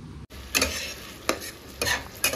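Fish cooking in oil in a pan in a Kolkata home kitchen, a soft sizzle broken by several brisk stirring or scraping bursts spaced about a second apart, close by with no talking.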